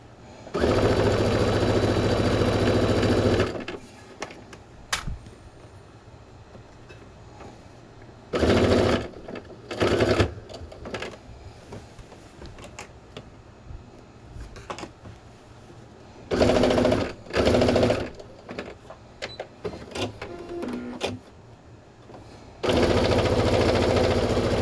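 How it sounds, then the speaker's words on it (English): A sewing machine stitches down the binding on a fabric pillow sham in several loud, steady bursts of rapid whirring, separated by quieter pauses. "I will flip it to the front and sew down the front."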